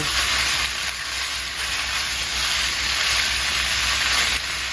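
Pork stir-frying with fish sauce in a pan gives a steady, close sizzle with a constant bright hiss and low burner rumble throughout, no voices.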